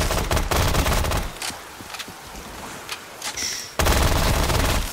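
MP5 submachine gun from Cold War firing in Black Ops 3 zombies on a Tranzit bus depot custom map, with loud rapid bursts at the start and end and quieter shuffling in between.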